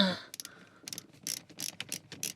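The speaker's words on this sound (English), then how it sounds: "Line up the screw like that. Grab the screwdriver and then" A screwdriver drives a screw into the boot light housing of a Nissan Primera P12, making a short series of close, crisp ratcheting clicks in quick uneven bursts.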